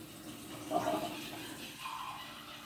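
Water runs from a tap after the supply is reconnected, a soft steady splashing rush with slight surges, faint and fairly distant.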